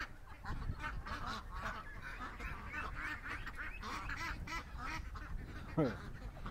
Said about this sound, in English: the Canada geese are chasing him